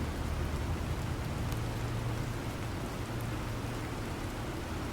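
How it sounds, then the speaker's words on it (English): Steady broadband hiss of rain falling on a terraformed alien planet in the survival game Planet Crafter, a constant even wash with a faint low rumble beneath and no voices. "now it's fucking rain"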